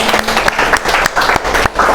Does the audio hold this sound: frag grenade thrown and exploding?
no